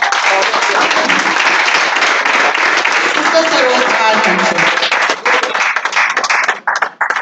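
Applause rises in a hall at a church award and certificate distribution ceremony in Kolkata, continuous clapping under someone speaking over a PA, then thinning out toward the end.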